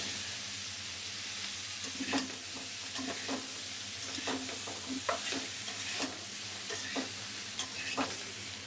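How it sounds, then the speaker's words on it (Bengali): Jackfruit pieces fry lightly with a little salt in a pan for a vegetarian vegetable dish, a steady soft sizzle broken by regular scraping stirs roughly once a second, close and with no talk. "এর মধ্যে কাঁঠালগুলো দিয়ে ভেজে নেবেন।"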